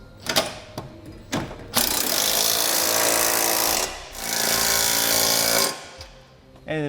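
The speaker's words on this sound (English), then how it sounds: "And now we can tighten down our hardware. You'll use a 19mm socket on the carriage bolts and nuts." A power tool with a 19mm socket drives trailer hitch carriage bolts and nuts on a 2015 Lincoln MKS, giving short rattling bursts followed by two sustained loud rattling runs, close and without talk.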